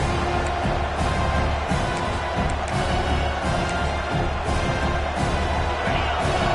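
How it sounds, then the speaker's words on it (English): Football stadium crowd roaring steadily in support of the home defense, a dense, loud wall of cheering and noise that holds throughout without a break. "Listen to this crowd just shaking the girders of this place, trying to help their defense"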